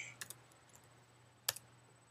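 Typing a keyword on a computer keyboard: a few soft, quiet key clicks near the start and a sharper pair of taps later, over a faint room hum.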